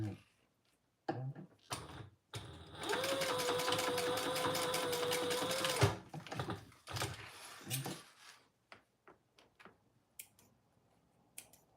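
A sewing machine topstitches vinyl in one continuous run of about three seconds, set between scattered clicks, taps and handling noises.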